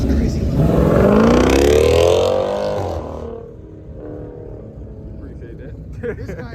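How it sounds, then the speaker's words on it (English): A loud car revs and roars at a packed season-opener car meet, the engine note climbing and then fading over a few seconds, close by, with crowd noise behind it. "This guy's car is crazy loud."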